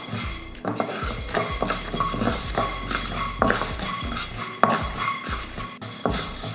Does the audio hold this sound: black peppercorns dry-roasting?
yes